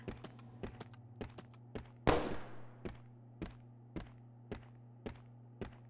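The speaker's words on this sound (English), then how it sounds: "What was that gunfire?" Gunfire in the horror video game Crow Country: a single loud, sharp shot that decays over about half a second, surrounded by a steady series of evenly spaced, crisp ticks over a low ambient hum.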